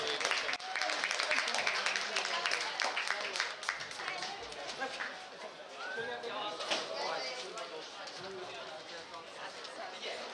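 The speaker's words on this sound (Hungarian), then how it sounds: "Nagy tapsot nekik!" At a Hungarian Just Dance championship grand final, the crowd claps for the finalists called to the stage. The clapping is loudest at first, then thins beneath lively voices and crowd chatter.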